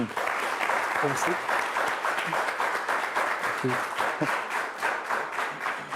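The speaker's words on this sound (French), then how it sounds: "Mesdames, messieurs, s'il vous plaît, on applaudit Doto Kwasi." A television studio audience applauds a guest arriving on a Beninese TV show, continuous rapid clapping close to the microphone, with a voice calling out briefly over it.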